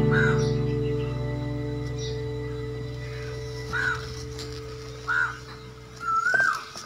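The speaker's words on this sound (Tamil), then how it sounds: "உங்களுக்கு ஒரு குயில் கத்துற சத்தம் கேட்கா" An Asian koel calls in a village home garden, three short rising calls spaced a second or so apart, moderately distant, over a steady low mechanical hum.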